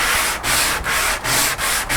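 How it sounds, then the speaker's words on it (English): Wooden boards for a floor lamp being hand-sanded: rhythmic back-and-forth rasping strokes, five or six in quick succession, close and clear with brief pauses between. "we're not going to subject you to the sanding of all four boards"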